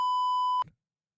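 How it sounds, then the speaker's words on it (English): A single steady censor beep, a pure electronic tone lasting just over half a second, cuts off abruptly into silence. "I can beep it out."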